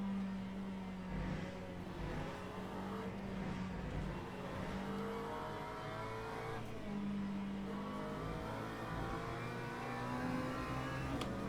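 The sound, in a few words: McLaren race car engine, Le Mans Ultimate video game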